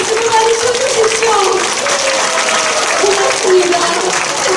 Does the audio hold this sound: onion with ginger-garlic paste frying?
no